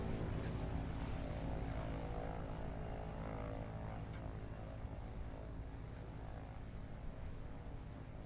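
A propeller airplane in Microsoft Flight Simulator taking off, its engine and propeller making a loud, steady, dense drone throughout with no voices.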